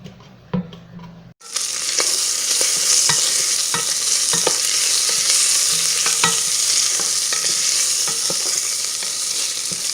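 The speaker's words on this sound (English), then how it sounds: "here's my bacon going in" Bacon drops into a pot on medium-high heat and bursts into a loud sizzle that holds steadily, dotted with crackles and pops, after a brief quiet moment at the start.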